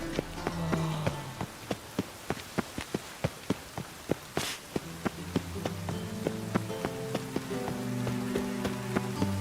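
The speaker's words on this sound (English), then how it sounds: "Even the rain smells like piss in this town." Rain falls steadily in the video game The Witcher 3, a constant hiss with a regular series of sharp, close steps tapping through it.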